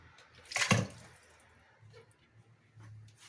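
Raw chicken meat drops into a pressure cooker of water over low heat, giving one brief wet splash, followed by faint quiet sloshing.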